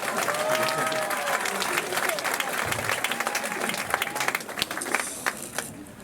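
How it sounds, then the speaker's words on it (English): Audience applause for a magician after a card trick at a magic club show, dense and steady clapping from a crowd that thins toward the end, with cheers and talk mixed in. "Give him a round of applause."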